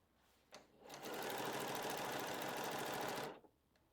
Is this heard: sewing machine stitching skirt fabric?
yes